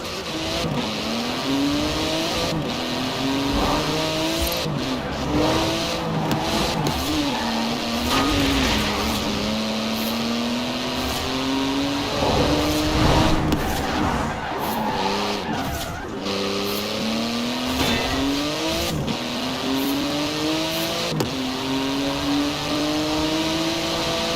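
A Porsche 911 GT2 RS in Forza Horizon 4 roars loudly through rising and falling engine revs as its tyres squeal and skid, a continuous close racing sound with no voices.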